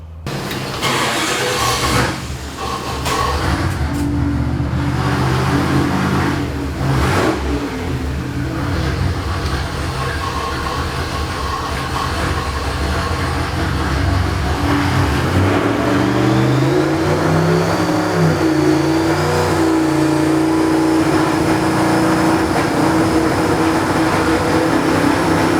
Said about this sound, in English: We'll just rev it up and see which one makes the pop go away.